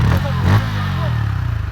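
A motorcycle engine idles and revs close by, a low rumbling drone with a brief rise in pitch early on.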